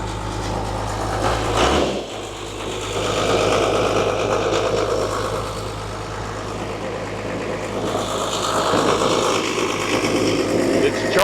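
An abandoned Dodge 12-valve diesel engine idles steadily after sitting for years, a constant nearby rumble that shifts briefly around two seconds, with voices faintly underneath.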